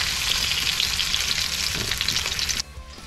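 Chicken roulade frying in hot oil in a pan, a dense bright sizzle holding steady and close for a few seconds before dropping off suddenly as the heat is cut.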